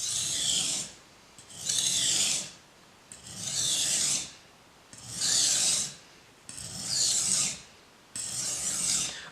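A knife blade being stroked back and forth on a sharpening stone to work the burr off the edge: six steady rasping passes, each about a second long, close and clear with short pauses between them.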